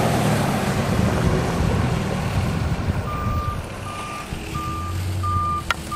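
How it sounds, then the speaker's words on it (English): A city truck at a waterfront construction site in Cornwall, Ontario rumbles nearby, then its reversing alarm starts up, sending out a regular series of evenly spaced beeps over the engine and wind noise. "Here is the city truck coming by again and leaving."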